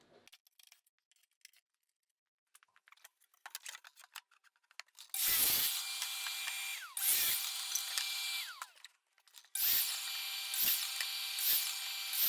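A miter saw on a Milwaukee Packout stand trims a wooden board. Three loud, sustained whining cuts spin up and wind down, separated by quieter clicks and handling noises.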